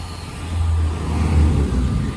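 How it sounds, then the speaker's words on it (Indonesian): Busy road traffic at Lembah Anai in West Sumatra, with heavy vehicles such as six-wheel trucks passing. A continuous low rumble of engines swells and eases as vehicles go by nearby. "Dan di sini terlihat kendaraan ramai"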